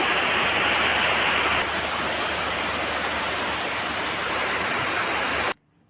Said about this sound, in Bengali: বাইরে কিন্তু প্রচণ্ড বৃষ্টি